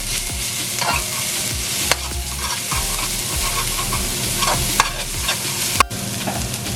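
Pork belly seasoned with geera (cumin) frying in a pan gives a steady, close, dense sizzle with a few sharp utensil knocks scattered throughout.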